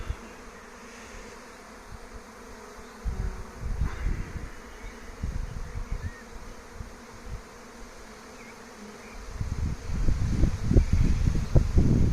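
A small honeybee swarm buzzes at an apiary in Santeny, a dense outdoor drone of many bees that swells louder and closer toward the end, with light wind in the background.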